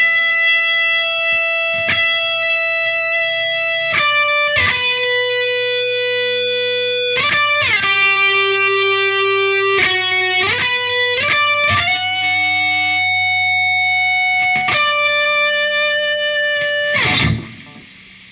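An electric guitar with effects and distortion plays a riff, sustained notes and slides up the neck ringing loud and close, ending in a noisy burst, with no voices.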